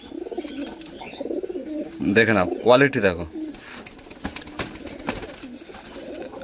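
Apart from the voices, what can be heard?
Kalanka pigeons cooing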